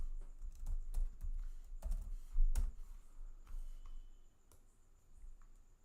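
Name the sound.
typing on a computer keyboard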